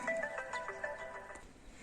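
A phone ringtone chimes while a garden is being filmed in spring, a bright repeating electronic melody of short tonal notes playing alone at moderate, close volume for about two seconds.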